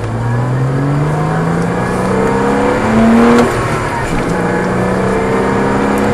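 A car holds full throttle through a long sweeping bend on a race circuit, heard from inside as a loud, steady engine drone with gradually rising pitch, one brief surge in the middle and no talking.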